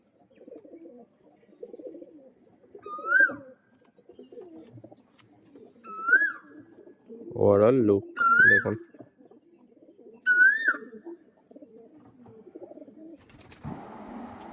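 Pink-barred pigeons coo in short, bright rising calls repeating every few seconds, with one burst of wing flapping midway and someone speaking briefly over a low background murmur.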